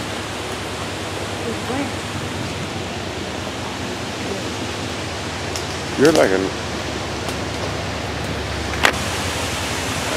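Rushing water from a waterfall, a constant broad hiss steady throughout, with a brief spoken remark and a couple of short knocks midway.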